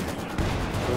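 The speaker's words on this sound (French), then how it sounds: "la cadence du tir du sniper, c'est plus un sniper, c'est une mitraillette" Rapid sniper rifle fire in a competitive 2v2 World War II strategy game, shots bursting so quickly they sound like a machine gun, with dense crackling reports packed into a brief, steady barrage.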